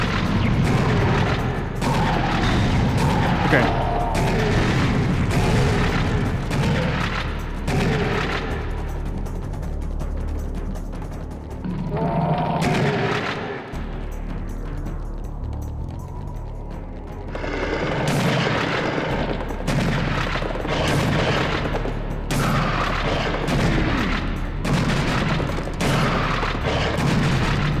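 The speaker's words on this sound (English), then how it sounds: "I reckon I might be using these rockets." Rocket launcher fire and explosions in the Serious Sam HD shooter game, a near-continuous barrage of loud booms and gunfire with brief lulls, one short spoken word over the din.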